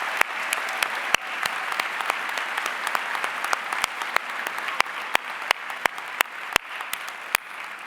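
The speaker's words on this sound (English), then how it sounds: "Please join me in another round of applause." An audience at an honors convocation gives a round of applause, a steady wash of many hands clapping with sharp individual claps popping out above it throughout.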